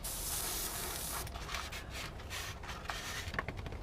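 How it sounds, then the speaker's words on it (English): An aerosol can sprays yellow paint onto a model part for a Saturn V diorama, a steady close hiss for over a second followed by faint rubbing and handling sounds. "we're going to go ahead and spray it yellow, see how it turns out"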